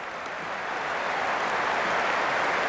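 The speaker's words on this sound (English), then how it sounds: "It's the most enthusiastic crowd you could ever see right now." A stadium crowd in the Cricket 26 video game keeps up a steady, rising roar of cheering and applause, loud and continuous, with no voices standing out.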